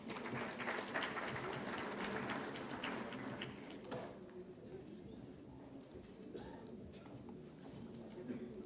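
An audience at a national conclave on technical textiles applauds in a dense, steady wash of clapping that fades somewhat after the first few seconds, with voices and chatter mixed in.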